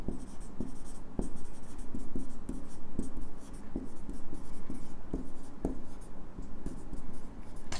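Pen writing a line by hand on paper, a steady close scratching with repeated short stroke taps, continuous and alone with no talk.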